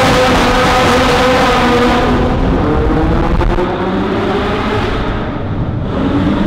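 A Ferrari F40 turbo engine roars loud and close, its sustained rasping drone shifting in pitch as the car accelerates.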